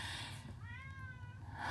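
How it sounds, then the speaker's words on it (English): A cat gives one drawn-out, rising and falling meow at close range, faint against a low background hum, with no talking in between. "she was just meowing up a fit a second ago."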